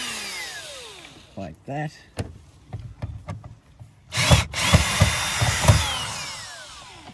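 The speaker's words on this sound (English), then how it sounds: "we are going to pull out these two Torx screws" A T20 Torx screwdriver works two screws out of a BMW X3 inner door panel, giving close scraping and grinding bursts with a brief clatter; someone says a few words.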